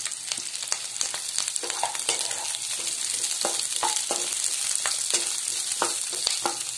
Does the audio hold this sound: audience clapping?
no